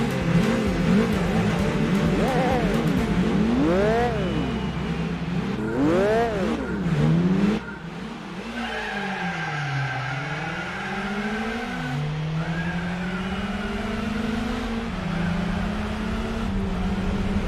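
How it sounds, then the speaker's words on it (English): A VW Beetle laps Fuji Speedway in the Gran Turismo 4 racing game, its engine revving up and dropping through repeated gear shifts, loud and close, with tire squeal as the pitch swoops through corners and no talking. "It has a rather nice engine sound, surprisingly. I'm surprised at how nice the engine sounds."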